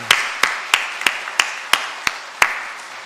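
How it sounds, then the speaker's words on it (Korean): Slow, evenly spaced hand claps ring through a church hall as a congregation welcomes a member, about nine sharp claps with a light echo and no talking. "우리 큰 박수로 환영하도록 하겠습니다"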